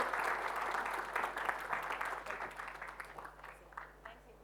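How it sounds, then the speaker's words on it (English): At an HR technology conference the audience gives a round of applause to welcome Esther to the stage, a crisp burst of many hands that is strongest at the start and thins out toward the end. "let's welcome Esther with a big round of applause"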